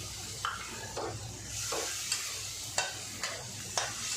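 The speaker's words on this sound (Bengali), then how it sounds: "ভালো করে আমি কষে নেব আমি অল্প জলও দিয়ে দিচ্ছি" Spices with tomato and a little water are stir-fried for a jackfruit dhoka curry, a soft sizzle running under repeated scraping strokes of a spatula against the pan, roughly every half second.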